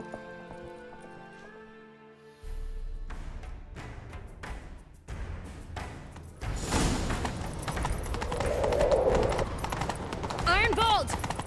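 Hooves clip-clop at a gallop in The Witcher 3, starting after a quiet stretch and growing louder and more rapid, with character voices speaking over the riding.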